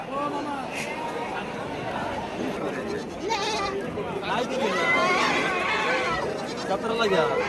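Goats bleat repeatedly, several wavering cries close by, while people talk over them throughout at a livestock market in Shirur, Pune.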